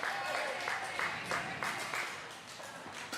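Crowd applause from Stinger fans at a National Pickleball League match in Houston, a steady wash of clapping with cheering voices mixed in throughout.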